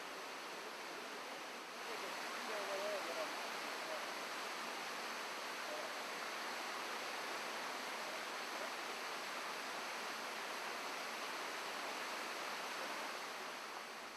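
Jungle river rapids rush in a steady, dense roar of churning water that holds at an even, loud level throughout, with no pauses and no voices.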